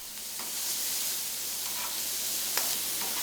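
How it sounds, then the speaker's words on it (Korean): Mexican beans frying in a pan with onion and chili pepper, a steady close sizzle with a few soft scrapes of stirring. "이 멕시코 콩과 양파고추를 같이 볶는 것을 콩자반이라고 하셨답니다"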